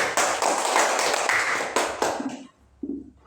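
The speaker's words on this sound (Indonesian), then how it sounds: "Tepuk tangan untuk kalian semua dulu." Children in a classroom clapping their hands, a brisk burst of many overlapping claps that thins out and stops, followed by a few scattered light taps near the end.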